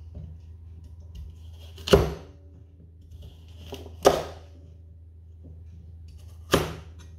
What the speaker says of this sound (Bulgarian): Нарязвам морковите малко по-наситно.